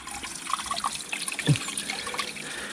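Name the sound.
water poured over a car windscreen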